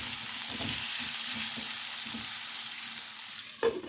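Mixed vegetables with palak sizzle steadily in a frying pan, with soft periodic stirring strokes and a clunk near the end, close and without talk.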